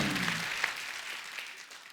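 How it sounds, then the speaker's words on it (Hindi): A studio audience at a comedy talk show applauds in a brief burst of broadband clapping that slowly fades over two seconds. "उसके लिए जोरदार तालियां"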